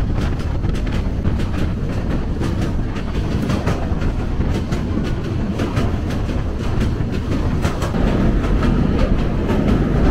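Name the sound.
Kishoreganj Express train running on rails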